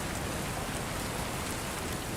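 Steady rain falling, a dense continuous hiss of drops spread evenly across the whole stretch with no gaps, close and fairly loud, no voices.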